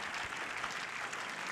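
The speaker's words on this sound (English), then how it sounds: "can we give our alums a big round of applause" Applause for alumni at a school gathering, a dense, steady wash of clapping across the room with no break, fairly soft and distant.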